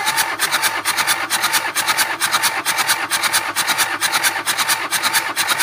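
A Toyota 2L diesel engine cranks on its starter during a compression test, giving a steady rapid rhythmic chugging that runs loud and continuous throughout with no talk.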